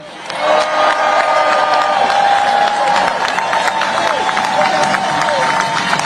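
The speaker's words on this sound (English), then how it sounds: "Would you cheer for the people who work around you?" A crowd at a union labor rally in Chicago cheers and whoops loudly, a sustained roar of voices with scattered claps that swells after a quiet start and holds steady.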